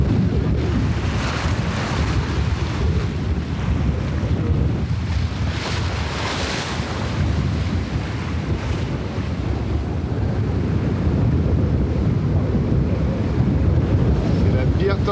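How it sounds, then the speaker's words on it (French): A violent storm in the Bay of Biscay batters a sailboat, with roaring wind buffeting the microphone and heavy waves crashing and surging in a constant, loud wash around the vessel. "C'est la pire tempête que j'ai jamais eu à affronter le Grand Vésigue"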